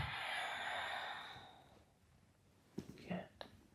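A person breathes out slowly and audibly as part of a guided exercise session, the airy exhale fading away before a few brief soft mouth and breath noises follow.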